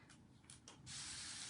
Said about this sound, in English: I'm going to spray a little more water in there for next time.